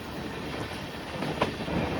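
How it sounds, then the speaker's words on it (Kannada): Local MEMU electric train passing nearby, a continuous rumbling rush with faint rail clatter building slightly toward the end, no voices. "ಲೋಕಲ್ ಮೆಮೊ ಟ್ರೈನ್ ನೋಡಿ ಹೋಗ್ತಾ ಇದೆ."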